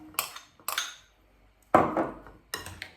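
Spoon clinking and scraping through a broccoli salad with canned corn and red beans in a bowl, four short bursts of stirring separated by pauses, close and fairly quiet, with no talk.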